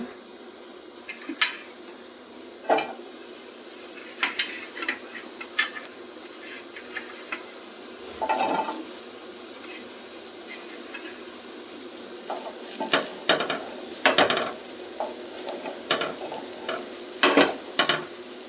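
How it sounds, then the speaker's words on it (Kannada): Onion and garlic fry in a pan for a special idli chutney, with a low sizzle and repeated scraping stirs and knocks of the spatula coming in bursts. "ಈರುಳ್ಳಿ ಬೆಳ್ಳುಳ್ಳಿ ಹುರ್ಕೊಳ್ಳೋಣ"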